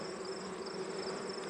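Honey bees buzz steadily at an opened nuc hive full of brood, a close, continuous drone with a constant hum and no voices.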